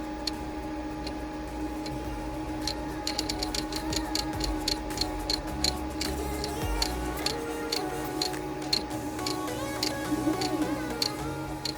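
Biqu H2 3D printer extruder skipping, a steady mechanical hum overlaid with rapid, irregular sharp clicks and ticks from the extruder gearing, close and moderately loud with no talking.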